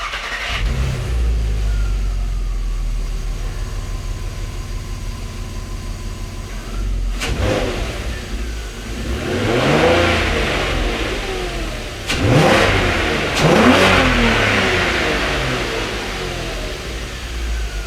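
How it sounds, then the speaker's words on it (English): A car engine, freshly back together after a stripped oil drain plug thread repair, idles and then revs repeatedly, with loud rising and falling surges and a rough low rumble heard close by, and no talking. "You can give us some more revs too"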